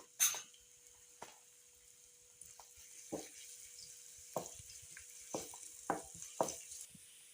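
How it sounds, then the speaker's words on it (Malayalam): Garlic and ginger sizzle quietly in hot oil, broken by a scattering of sharp spatters and pops, some clustered close together toward the end, with no one talking. "നമുക്ക് ആദ്യമേ വെളുത്തുള്ളിയും ഇഞ്ചിയും ഇട്ട് കൊടുക്കാം."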